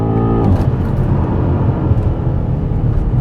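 A 2021 BMW M8 Gran Coupe launches hard off the line, its engine note climbing sharply before settling into a loud, sustained, close roar of acceleration.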